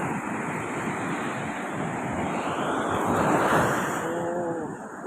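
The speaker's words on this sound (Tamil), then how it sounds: "அலைகள் அதிகமாக இருக்குது" Rough, high ocean waves roll in on the sea at Pondicherry, a continuous loud wash of surf mixed with heavy wind buffeting the microphone, without speech.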